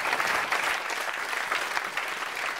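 Studio audience applause on a French TV entertainment show, steady clapping from a crowd that holds at an even level for a few seconds with no talk over it.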